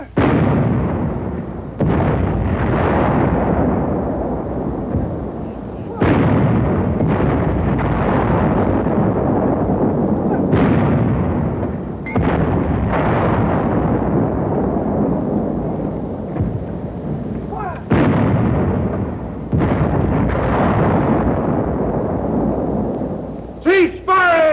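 Repeated heavy gunfire blasts against a 4-foot-thick roadblock, about half a dozen loud booming shots spaced a few seconds apart, each followed by a rumbling tail.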